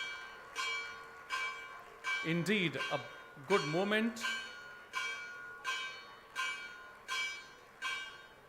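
A bell rings at a university convocation ceremony, with steady, regularly spaced resonant strikes, and someone speaks briefly over it midway.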